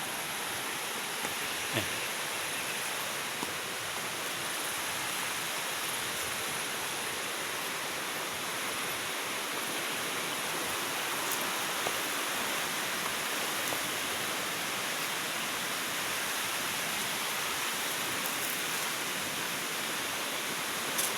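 A mountain river rushes steadily, a loud, unbroken hiss of flowing water that lasts throughout, with a brief spoken word near the start.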